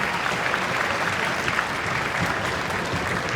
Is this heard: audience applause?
yes